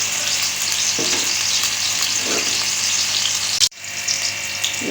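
Onions frying in a pan for keema with capsicum, a steady broadband sizzle with occasional stirring scrapes and a brief sharp clatter near the end, close and continuous with no talking.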